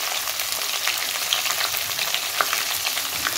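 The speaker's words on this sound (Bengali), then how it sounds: "পেঁয়াজগুলো দিয়ে ভালো করে একটু নেড়ে নেবো" Onions fry and are stirred in a pan for Bengali-style tadka dal, giving a steady close sizzle with scattered crackles and scraping and no talk.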